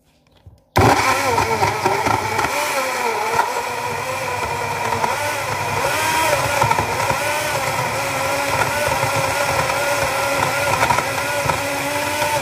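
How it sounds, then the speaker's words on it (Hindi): After a moment of quiet, a blender blending a pineapple and chia seed smoothie with water switches on with a loud, continuous motor whir that runs steadily and close by until the end. "Very good blender."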